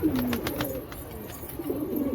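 Pigeons coo softly nearby in a short run of low, throaty, repeated notes, with faint background noise and no talking.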